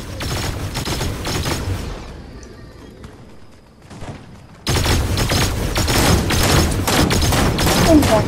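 Rapid Fortnite gunfire crackles in dense, loud bursts. A quieter gap of a couple of seconds with a few isolated shots breaks the firing before another intense barrage resumes. Voices talk faintly underneath.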